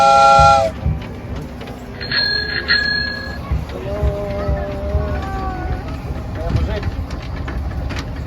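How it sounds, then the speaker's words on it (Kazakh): A small amusement-park train rolls along in a city park during Victory Day festivities, its shrill whistle sounding in short blasts over rumbling wheels, with people talking and crowd noise around. "И мы едем в поезде."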